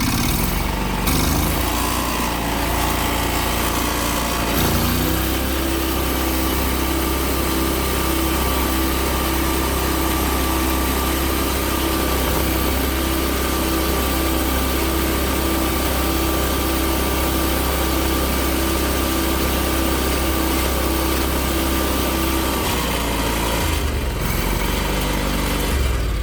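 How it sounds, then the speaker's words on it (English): A John Deere X475 lawn tractor engine runs steadily and loudly up close, a loose muffler baffle adding a continuous metallic rattle over the drone, with a brief dip in the engine note near the start and again near the end. "So that rattling sound you heard is actually just the muffler."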